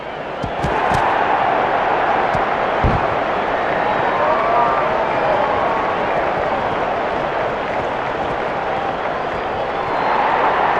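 Baseball stadium crowd in MLB 10: The Show, Phillies at Marlins in Florida, rising into a loud, steady roar of cheering that holds for about ten seconds after a few early thumps.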